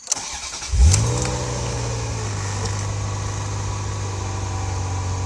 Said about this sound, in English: when you start the car up